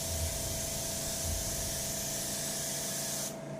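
An airbrush sprays black dye onto leather with a steady close hiss that holds for about three seconds and then cuts off abruptly, with no talk.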